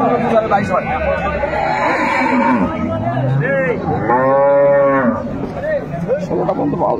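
Dairy cows and calves of improved breeds low and bellow at a busy cattle market in Ambari, Dinajpur, with a long, loud moo standing out midway amid steady crowd chatter and talking nearby.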